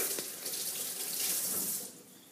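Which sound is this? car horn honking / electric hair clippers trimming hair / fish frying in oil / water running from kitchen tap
water running from kitchen tap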